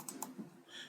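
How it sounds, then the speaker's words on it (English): Keys on a computer keyboard clatter in a quick burst of a few close taps and clicks while a name is typed, then a brief pause and one more soft keystroke, with no voice. "let's go ahead and do that by typing in the name of it, game over panel"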